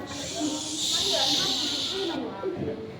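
A long, breathy snake hiss, added as a sound effect in a children's told story, rises and holds for about two seconds, then cuts off as a voice carries on over it.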